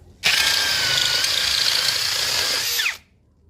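A cordless impact drill powered by 18650 battery cells whines loudly at high speed for nearly three seconds, starting abruptly and stopping sharply, with a slight pitch dip at the end.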